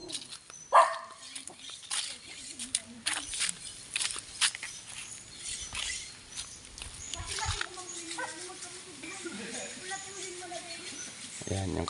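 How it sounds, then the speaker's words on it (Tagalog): A pet dog on a rural farm lets out a sharp, loud bark early on, followed by scattered rustling and footsteps while people talk nearby. "Ayan, may alaga siyang aso."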